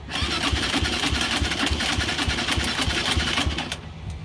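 A small engine fuelled with olive oil sputters and runs roughly up close, its uneven pulsing chug unable to hold a steady idle, loud and without talk.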